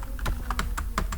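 Quick keystrokes on a computer keyboard as a command is entered in an Ubuntu 18.04 terminal, about a dozen close, crisp clicks in an uneven rhythm with no voice.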